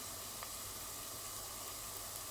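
Prawns frying in a pan with turmeric and chilli powder give off a faint, steady sizzling hiss that runs evenly throughout with no voices.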